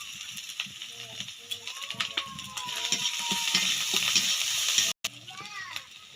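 Onions with turmeric stirred and frying in a pan for a Bengali fish-head curry, a steady sizzle with repeated scraping strokes, close and moderately loud, while a voice talks over it.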